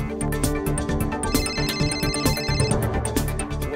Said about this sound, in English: Put the phone to your ear and listen for a ringing sound.